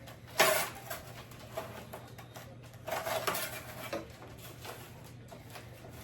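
A spatula scrapes around a baking pan to free biscotti dough, giving two brief, faint bursts of scraping and clatter against a steady low hum.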